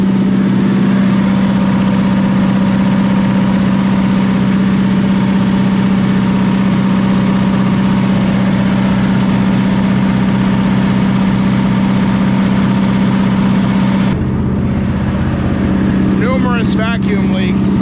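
A 1979 Ford F150 engine with a carburetor needing rebuild idles high, a loud, steady drone with a strong low hum that runs throughout, while someone talks over it near the end.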